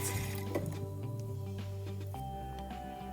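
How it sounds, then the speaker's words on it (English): Rice being rinsed under running water in a kitchen sink, a steady close stream of flowing water with small splashes and drips. "first I rinse the rice under water so that the water run clear"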